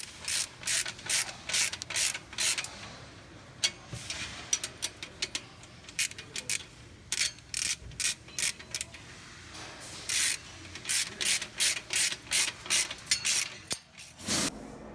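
Ratchet tightening the exhaust pipe connections of a VRSF 3.5-inch race exhaust on an E9X BMW 335i, heard as rapid bursts of close, crisp clicking strokes in steady rhythmic runs with short pauses between, no talking.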